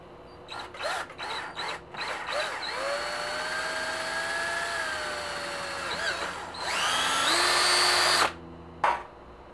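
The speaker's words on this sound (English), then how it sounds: "And now I'm going to drill it." Power drill bursts on and off, then a sustained whine as the bit bores into a metal fitting for a train horn diaphragm, rising in pitch before stopping abruptly.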